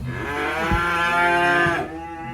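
A black sacrificial cow moos in one long, loud, mournful call close by as it is unloaded from a livestock truck, followed by a quieter tail of ambient noise.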